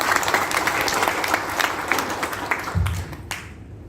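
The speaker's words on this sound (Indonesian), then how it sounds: "Tepuk tangan untuk PT BES." Applause for PT BES at an Indonesian fertilizer seminar: a crowd claps in a fairly loud, continuous patter with a few sharper close claps, then tapers off quickly at the end.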